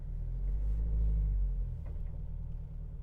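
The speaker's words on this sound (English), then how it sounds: "Like, this car, it's noisy." Inside a moving car, a steady, loud low rumble of road and engine noise that swells briefly, then settles into a constant drone, with no talking.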